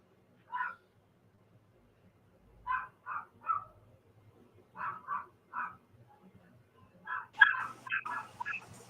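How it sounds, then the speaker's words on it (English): A small dog yaps in short, quiet bursts in a home setting, several barks in loose clusters with pauses between, faint and indoors. "You got a dog?"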